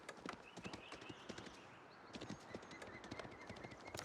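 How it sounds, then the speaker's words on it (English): Horse archer hooves clatter in Age of Empires IV as several mounted units move out together. The quiet, rapid clip-clop patter is irregular and overlapping, with faint bird-like chirps in the game ambience. "The horse archers have already begun to roll out for the Rus player."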